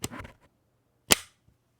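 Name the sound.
bayonet clicking onto a rifle (Kronos KR3003, PSA)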